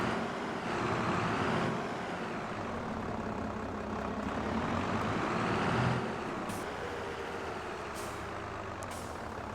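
A tractor engine pulling away in Farming Simulator 22, a steady low diesel drone that swells as it moves off, with a few faint clicks and hisses later on.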